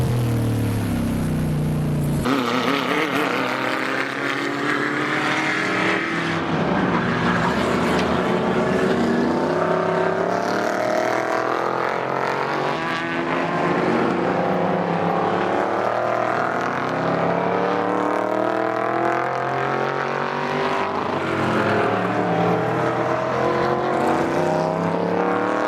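Race cars roar past on a track during a four-hour endurance race at Dezzi Raceway, a 51 Cobra and a BMW E30 among them, with engines droning and rising and falling continuously, loud and near, with no talk.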